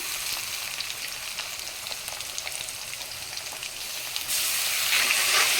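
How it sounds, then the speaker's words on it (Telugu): Ground masala paste sizzles steadily in hot oil for a drumstick curry, a dense continuous hiss with small crackles that grows louder and brighter near the end. "ఇప్పుడైతే ముందు గ్రైండ్ చేసుకున్న మసాలా పేస్ట్ వేసేసుకున్నాము"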